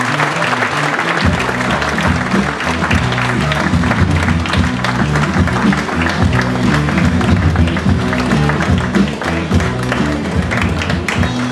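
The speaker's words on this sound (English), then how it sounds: "round of applause for Captain Hugh, his senior officers and he" A large audience on a Caribbean cruise ship applauds continuously and loudly as the captain, senior officers and heads of department take the stage, the dense clapping filling the room throughout.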